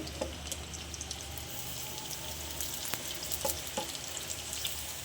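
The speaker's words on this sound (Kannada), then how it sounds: "ಆಮೇಲೆ ನಾಲ್ಕು ಸೀಳ್ಕೊಂಡಿರೋ ಅಂತ ಮೆಣಸಿನ್ಕಾಯಿ ಹಾಕ್ಕೊಂಡಿದ್ದೀನಿ ಇದು ಒಂದು ಸ್ವಲ್ಪ ಫ್ರೈ ಮಾಡ್ಕೊಂಡು ಇವಾಗ ನೋಡಿ ಈರುಳ್ಳಿ" Slit green chillies and onion fry in hot oil in a pan, a steady close sizzle and crackle with a few sharper pops, and no voices over it.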